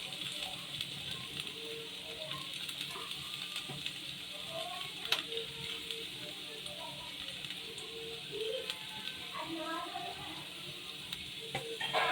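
Vegetables sizzling in a spoonful of oil for fried Maggi noodles, a steady soft crackle and hiss with occasional stirring clinks, fairly quiet and continuous.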